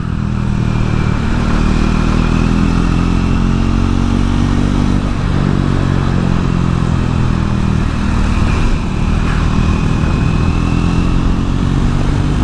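A Triumph Scrambler 400X motorcycle ridden on a tarmac road with Metzeler Karoo tyres gives a loud, continuous engine drone close up, holding a steady throttle throughout with wind rush over it.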